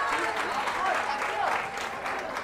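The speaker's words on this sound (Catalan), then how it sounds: "Tens l'aplaudiment" Studio audience applause on a Catalan quiz show after a correct answer, a short steady burst of clapping with a voice talking faintly over it.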